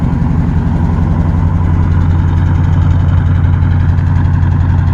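Steady idle from a 1977 Pontiac LeMans 301 with a two-barrel carburetor and dual exhaust, a constant low rumble running unbroken and fairly loud; no distinct belt squeak stands out above the engine.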